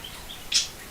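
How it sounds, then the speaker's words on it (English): A single short bird chirp sounds outdoors, fairly clear over faint background hiss. "the birds are so loud, I can barely hear the music myself"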